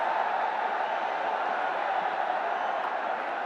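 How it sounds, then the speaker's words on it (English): A cricket stadium crowd at a BPL 2025 match between Durbar Rajshahi and Dhaka Capitals jeers a batsman, a steady, broad mid-pitched roar of many voices sustained without pause. "Oh, he's getting a little bit of flack from the crowd."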